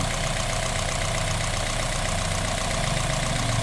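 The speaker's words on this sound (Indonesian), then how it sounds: "setelah selesai, suara mesin sangat halus, hanya suara injektor saja yang kencang" A Honda Jazz engine idles smoothly, with loud injector ticking: a steady, even mechanical hum with a constant fine rattle, close and unbroken, with no talking.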